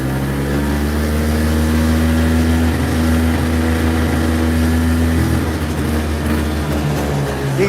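A broken 1986 E-Z-GO golf cart runs with a loud, steady engine drone as its wheel spins fast, giving a constant close hum with stable low tones that waver briefly midway.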